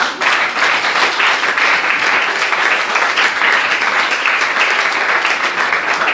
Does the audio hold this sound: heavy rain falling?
no